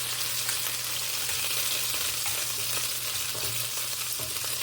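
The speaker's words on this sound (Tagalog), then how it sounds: "Prito ko muna ito." Chicken for orange chicken crackles and sizzles in hot oil, a continuous close hiss with faint pops and occasional stirring, no voices.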